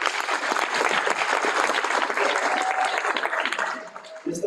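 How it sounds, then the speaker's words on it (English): Graduates' families and guests at a STADIO graduation ceremony give a round of applause, dense clapping that carries on strongly and then thins out, with a brief voice and a tone near the end. "Another round of applause."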